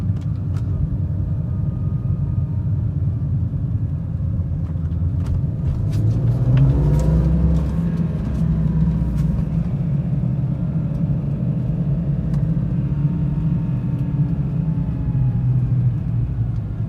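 A 2003 BMW E46 M3, converted from SMG to a manual gearbox, driving with a steady, deep engine rumble inside the car. Midway it swells briefly into a stronger rev before settling back to an even drone.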